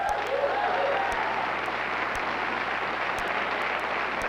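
Studio audience applause on a late-night talk show, a dense, sustained wash of clapping from a large crowd, loud and continuous from start to finish.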